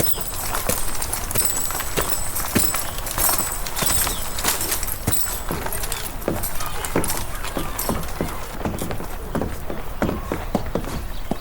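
Hitched horses walk in a video game, hooves clip-clopping in a steady, close rhythm along with jingling harness and a continuous rolling background, with no talking.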